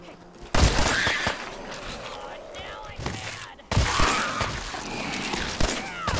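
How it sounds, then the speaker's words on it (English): Gunfire bursts in the video game Fallout 4, several sharp loud shots in two clusters over a busy game soundscape. "Oh, I'm shooting you."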